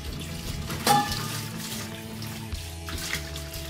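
Metal cooking vessels being rinsed with water in a kitchen, a steady splashing and trickling wash with a brief sharper clatter near the start, close and moderately loud with no talk.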